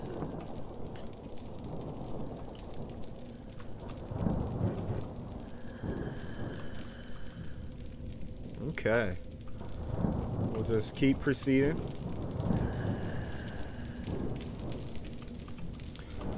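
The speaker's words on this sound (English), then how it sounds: "Oh, I imagine the rain can't be good" Steady rain patters in the indie horror game Wick, with low rumbles of thunder rolling beneath it while a person talks over the storm.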